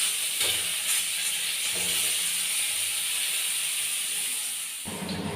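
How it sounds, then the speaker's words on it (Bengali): Boiled potatoes frying in oil in a kadai give off a steady, loud hiss and sizzle throughout, with a brief clatter near the end and no talking. "একই তেলে আলুগুলোকে ভেজে নেব"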